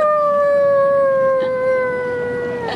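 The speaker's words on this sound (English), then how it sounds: "So many dogs out there." Dogs howling at a beach that serves as a big dog park: one long, loud, drawn-out tonal howl that sags slightly in pitch, with no talking.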